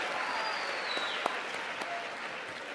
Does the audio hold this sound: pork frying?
no